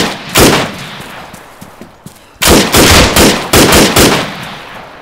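Loud, close gunfire in the military shooter Arma 3: one early shot, a few faint reports, then several sharp rapid bursts that echo and reverberate in quick succession.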